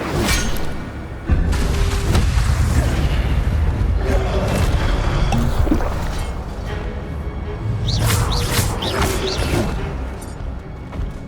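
Roaring, whooshing fire bursts from the Incendio spell in Hogwarts Legacy, heavy booming blasts that swell and fade over several seconds, with swishing magic effects layered on top.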